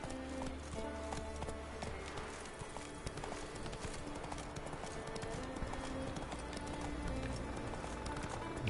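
Rapid rhythmic hoofbeats of a horse cantering in The Witcher 3 on Skellige, a continuous drumming gait over ambient game music and wind, with a faint neigh and speech low underneath.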